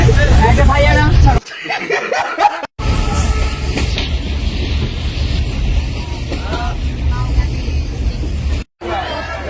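Dense passenger hubbub inside a crowded local train in Bangladesh, many voices overlapping in a steady loud babble with a low rumble beneath, briefly dropping out twice.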